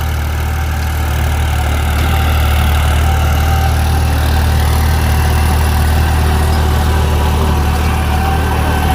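A heavy tractor engine running an 8-foot rotavator at about 1200 rpm drones steadily under strain, slightly bogging down, a constant deep rumble with mechanical vibration, loud and close, no voices.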